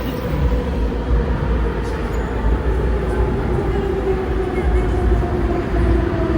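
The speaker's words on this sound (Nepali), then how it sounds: "अनि मेट्रो चढेर हामी चाहिँ रुम जाँदैछु।" An underground metro train rolls along with a steady, loud rumble and a faint high whine, heard from inside the carriage during a ride while travelling from Romania to Greece.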